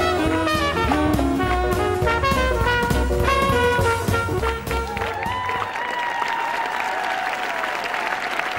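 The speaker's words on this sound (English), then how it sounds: "Listen to the applause for Arunas and Edita." Audience applause and cheering for a ballroom quickstep at a 2002 world dance championship, loud clapping under brisk band music that gives way to a sustained crowd ovation.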